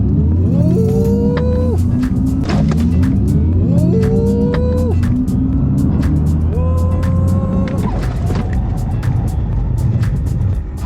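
A car rides on Hankook Ventus iON S electric-vehicle tires during a test drive, with a loud continuous rolling hum, a motor whine that repeatedly rises in pitch in three acceleration cycles, and sharp clicks scattered throughout.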